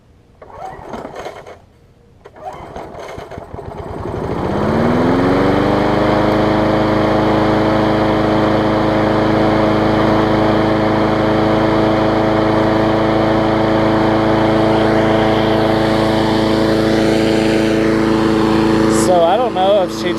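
An older MTD push lawn mower engine is pulled and catches after a couple of tries, then settles into a loud, steady, harmonic running drone close by that keeps going without letup to the end.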